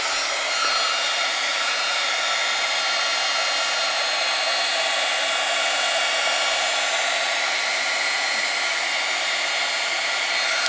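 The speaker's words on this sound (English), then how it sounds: "Maybe first we should try a little bit of the heat tool." A heat tool blows a steady, loud, broadband whoosh for about ten seconds without pause while drying a color pour art canvas, with no talk over it.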